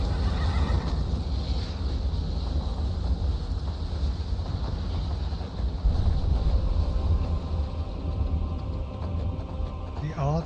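Horse whinnying in the video game Skyrim, a neigh in the opening second over a dense, continuous game soundscape with rumbling low noise and hoof clatter.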